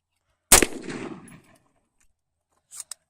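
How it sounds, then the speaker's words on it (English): A single loud, sharp shot from an AR-15 rifle fired outdoors, with a decaying tail afterward, then a faint pair of clicks near the end. "That was me shooting the AR-15."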